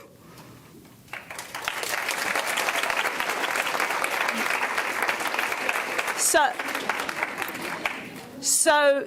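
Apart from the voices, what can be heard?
audience applause for graduating senior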